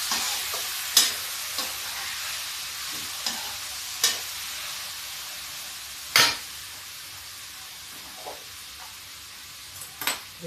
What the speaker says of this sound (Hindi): हल्दी 1 स्पून, कच्ची न रहे इसलिए इसको आप चला दें।